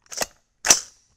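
Two sharp rifle shots from a 6.5 Creedmoor AR-10 with a 20-inch barrel, about half a second apart, each a loud, close crack that fades quickly into silence.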